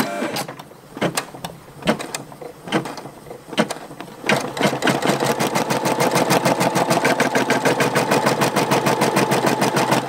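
An embroidery machine stitching a patch starts with a few scattered clicks and thumps, then settles after about four seconds into a fast, steady mechanical chatter of needle strokes that runs on loud and close.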